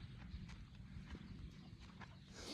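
Horses move about at a farm in the Charente, hooves clopping in a loose, uneven rhythm over steady low rumbling and rustle, fairly close, with no talk heard.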